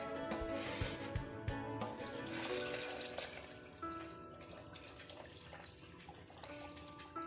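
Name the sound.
pouring water into a blender jug with falsa berries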